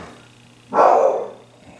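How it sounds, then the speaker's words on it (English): A dog gives a single bark at mid distance that lasts about half a second, set against a quiet hum from a room holding a 1963 Williams Skill Pool pinball machine. "we're going to get the dog barking, because here comes everybody."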